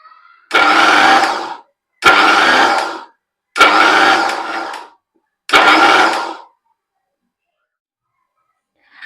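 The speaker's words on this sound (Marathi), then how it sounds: "मिक्सरचं बटन जे आहे ते बंद चालू बंद चालू करत दोन ते तीन वेळाच आपल्याला फिरवून घ्यायचं आहे" An electric mixer grinder pulses sesame seeds and peanuts in four loud, evenly spaced bursts of about a second each, with short silent gaps between them and no talking.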